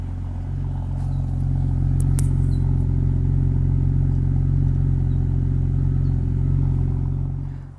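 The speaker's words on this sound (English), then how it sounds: "Here is the sound of that exhaust." BMW E92 328i coupe with an inline-six engine idling and revving through its exhaust, a loud, deep, steady rumble heard close up, rising slightly then easing off near the end.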